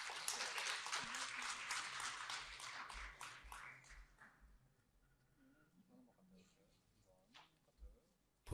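An audience at an education conference applauds to welcome a speaker, a burst of clapping for the first few seconds that fades quickly into quiet room noise with faint voices.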